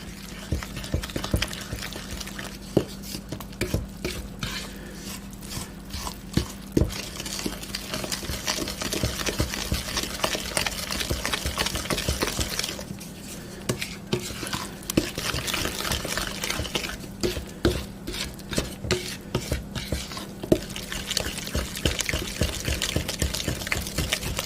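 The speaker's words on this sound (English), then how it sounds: "Stir it up." A pot of canned tomato soup being stirred on the stove, with wet sloshing and scraping strokes that repeat steadily and close up, alongside a faint hum and no talking.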